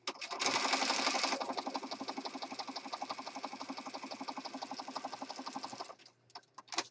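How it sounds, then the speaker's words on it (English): A sewing machine zigzag stitches around a layered gel-print journal card, a close, fast, even run of mechanical needle clatter lasting several seconds before stopping, followed by a few light clicks. "I'm going to start up here in this corner and just kind of zigzag stitch around."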